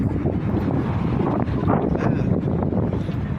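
Steady wind in Rome buffeting the microphone, a loud continuous low rumble with gusty swells and no voices.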